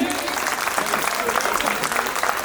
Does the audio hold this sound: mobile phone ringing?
no